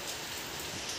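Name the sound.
heavy rain falling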